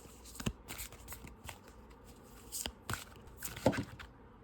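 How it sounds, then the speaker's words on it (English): Close, quiet shuffling of a tarot deck, with a string of soft papery riffles and card slaps coming in uneven bursts, with no talking. "we're going to shuffle some more cards"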